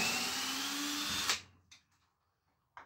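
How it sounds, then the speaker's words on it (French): A Ryobi 18V drill driver whirs steadily as it drives a screw into wood, then cuts off abruptly, followed by a couple of faint clicks and a short tap in near silence. "Grâce aux différentes vitesses de vissage, on peut faire en sorte que la vis s'arrête à fleur du bois."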